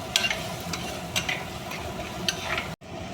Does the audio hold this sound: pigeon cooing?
no